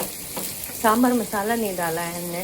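Spices are tempered in hot oil for sambar, giving a steady loud sizzle and crackle throughout while someone talks over it.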